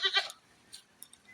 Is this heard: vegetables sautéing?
no